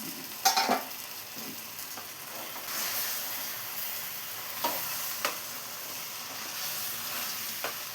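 Chicken for a chicken perattu stirred in a hot pan after simmering covered, with a soft continuous sizzle and several sharp spatula scrapes and clinks, nearby and moderately quiet, no voices.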